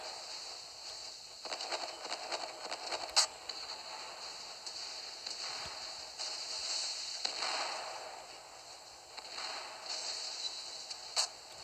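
Armor-piercing ship gunfire in the Naval Creed video game, from the cruiser Arethusa at close range, comes as faint, scattered crackling bursts over a thin hiss.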